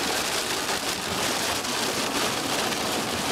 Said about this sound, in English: I think that's rain.